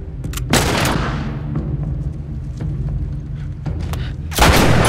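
A heavy single gunshot from the El Diablo revolver in The Last of Us Remastered, a loud booming blast followed by a long decaying echo, then a second loud burst of gunfire near the end.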